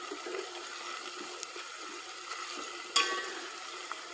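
Vegetables for veg dum biryani fry in a pan with a soft, steady sizzle and hiss, punctuated by a brief louder crackle or stir partway through, with no talking.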